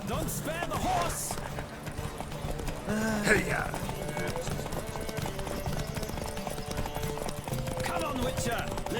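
A horse's hooves gallop in a riders' race in The Witcher 3: Wild Hunt, a steady clip-clop running under loud voices and game sound throughout.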